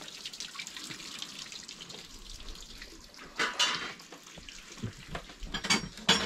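Water running from a tap in the hills around Sikles, Nepal, a soft irregular splashing and trickling, fairly quiet, with louder gushes and spatters toward the end.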